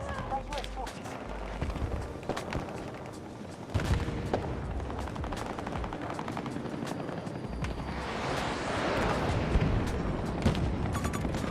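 Sniper fire in the shooter game Battlefield 2042, sharp gunshot cracks scattered through a busy battlefield mix with a helicopter drone and other gunfire, with talk over parts of it.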